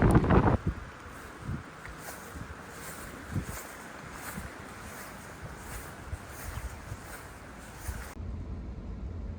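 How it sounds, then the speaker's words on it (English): Strong, steady wind roars across the microphone on the Washington ocean coast during a king tide, with gusty buffeting and a low rumble of surf in the background; no one speaks. "That's the ocean right behind me on a very windy king tide weekend."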